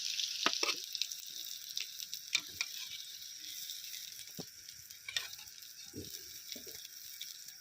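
Quiet, steady sizzling of potatoes frying in hot oil, with scattered soft pops and crackles throughout.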